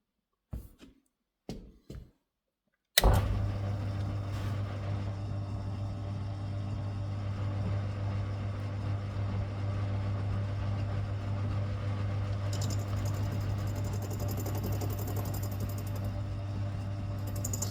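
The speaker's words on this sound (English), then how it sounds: "So that's just the collar starting to be cut away there." A lathe machines a collar off a metal pin for a custom Swiss Army knife key: a few sharp clicks, then a steady low motor hum with a faint higher cutting hiss joining later, close and continuous.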